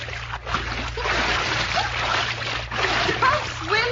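A person jumps into a swimming pool and swims a lap, making a loud splash followed by continuous churning and sloshing water, with voices talking over it.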